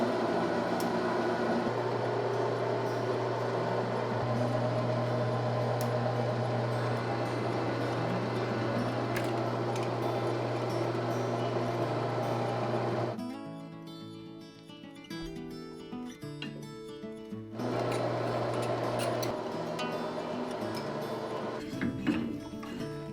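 A lathe cuts threads on a custom gun barrel in a workshop, giving a steady mechanical hum and whir that drops out partway through, then resumes.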